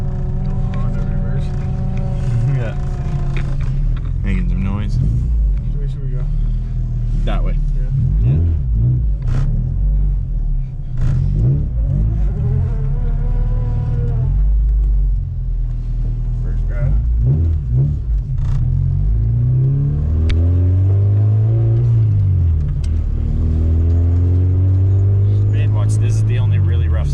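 The B-series engine of a Honda Civic rumbles steadily up close, rising and falling as it revs, with a swell of revving near the end. People talk over the engine throughout.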